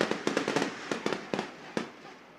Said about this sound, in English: As the fireworks go off here at Taggart Stadium